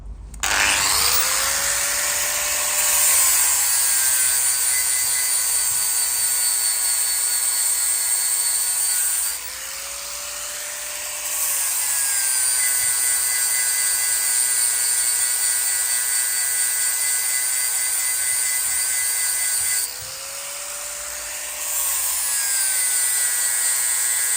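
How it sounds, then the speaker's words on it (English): Angle grinder fitted with a flapper disc grinding down the lip on a brake wheel cylinder, a loud, steady high-pitched whine that dips briefly twice as the tool is eased off and pressed back on, with no talk over it. "the best way I found to do this is a flapper disc on a grinder"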